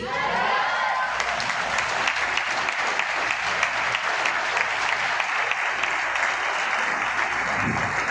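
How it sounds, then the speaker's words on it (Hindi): Workshop audience in a meeting hall breaking into sustained applause, a thick, steady roar of many clapping hands that continues evenly and fairly loud throughout. "ताली जब भी बजाना तो ईमानदारी से बजाना"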